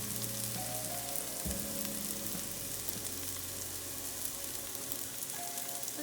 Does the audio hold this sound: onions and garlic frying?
yes